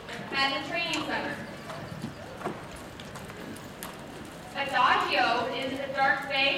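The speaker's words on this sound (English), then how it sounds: "Adagio is a dark bay horse that Helen is riding." Hooves of a dark bay horse being ridden at a training center in Nicola Valley clip-clop in a steady rhythm at moderate distance, with a voice talking over them and a brief whinny-like burst near the end.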